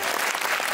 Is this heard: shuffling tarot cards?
no